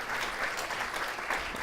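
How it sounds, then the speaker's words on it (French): A studio audience applauds guests from Burger King and Milka as they take their seats at a round-table panel. The clapping is brief, dense and steady, with no voices over it. "Soyez les bienvenus, on peut vous applaudir."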